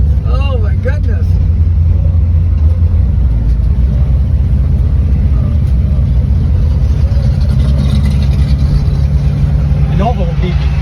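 A Ford Fairlane with a 390 engine, three deuces and 411 gears drones loudly and steadily at close range after a race, its engine noise continuous while people talk over it.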